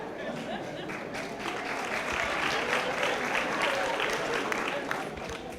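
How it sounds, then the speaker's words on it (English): Broad, continuous clapping from an audience at a graduation ceremony in Eleuthera, steady and fairly even throughout, swelling slightly midway, with faint voices mixed into the crowd. "but you can clap"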